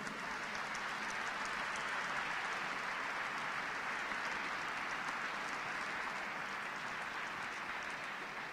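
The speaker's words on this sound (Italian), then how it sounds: "Un applauso a Dario Franceschini e Roberto Vecchioni." Diffuse, even applause from an audience at a book event with Dario Franceschini in Padova's Palazzo della Ragione, sounding distant and soft as it holds steady for several seconds with no voices over it.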